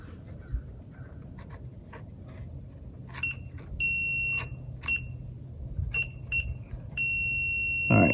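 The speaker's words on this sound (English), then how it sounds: "And when I touch them, it should beep." A continuity tester gives high, clear electronic beeps as two wire ends are touched together, several short beeps and longer sustained tones coming on and off amid light scraping and handling noise, close up.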